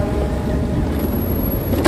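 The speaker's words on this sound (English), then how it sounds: "wow, look at all this traffic." Steady traffic on a busy New York City street at night, a continuous broadband roar of passing cars with a faint high whine near the end.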